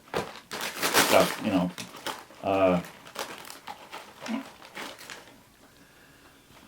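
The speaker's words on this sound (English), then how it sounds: "I'm putting them in these freezer bags" Plastic freezer bags crinkle and rustle in bursts as Oreo cookies are packed into them, close and loud at first then tapering off, with a person talking briefly over the handling.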